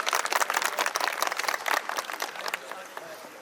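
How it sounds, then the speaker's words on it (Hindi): Applause at a retirement ceremony for Jagdish Chand after 41 years of service: dense, crackling clapping from a gathered crowd, loud at first and thinning slightly toward the end. "तो इसके लिए तालियां बनती हैं।"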